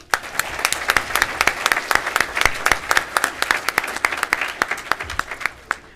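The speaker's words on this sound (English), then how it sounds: "Let's give another round of applause to our 3 newest chapters." Audience applause at the Montana FFA Convention, a dense hall full of steady clapping that holds for several seconds and tapers off at the end.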